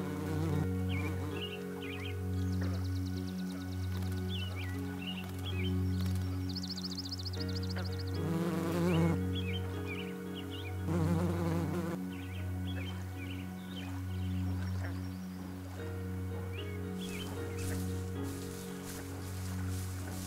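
Flying insects buzz around a lakeside meadow in wolf country, several faint wingbeat drones rising and passing near and far over a constant low background hum, with no voices.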